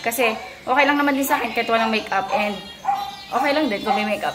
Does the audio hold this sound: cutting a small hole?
no